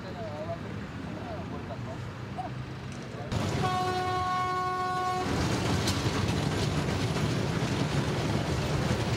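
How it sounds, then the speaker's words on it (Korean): A slow train on a narrow-gauge French colonial-era railway in Africa gives a long horn blast with a steady tone, over rumbling wheels and a loud running rush, with voices underneath at first. "기차는 프랑스 식민지 시대에 세워진 협계 위에서 큰 속도를 내지는 못한다."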